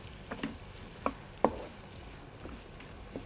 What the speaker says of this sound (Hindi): विंग्स मैरिनेट किए थे, अब मैं ये फ्राई करने के लिए ऑयल में ऐड कर रहा हूँ, ताकि ये अच्छे से फ्राई हो जाए